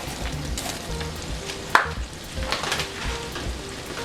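Green beans cooking in a big pot on the stove, giving a steady close sizzle with occasional stirring clinks and one sharp knock.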